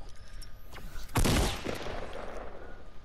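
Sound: gunfire in the video game Fortnite

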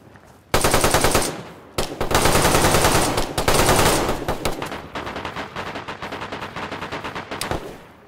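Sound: gunfire in the video game DayZ

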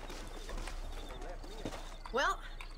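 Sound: war horse hooves in the video game Red Dead Redemption

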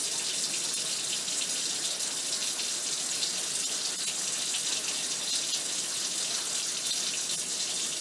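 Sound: scrubbing fingertips during surgical hand scrub with water

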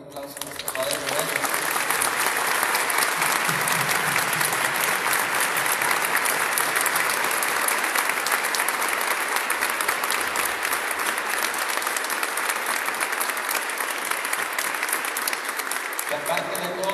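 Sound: congregation applauding in a basilica

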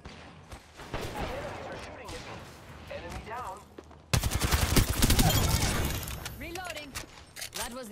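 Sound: gunfire in Apex Legends video game

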